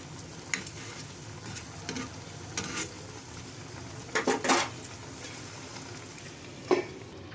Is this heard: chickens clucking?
no